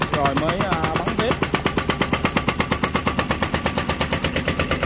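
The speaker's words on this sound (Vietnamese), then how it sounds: "cái xe cuốc đang đục các bạn, thì sẽ đục ở dưới cái chân này" An excavator's hydraulic hammer chiseling at the base of a Guan Yin statue at a temple in Vinh Long, Vietnam, fast loud rhythmic pounding blows in a steady rapid train, with someone talking over the start.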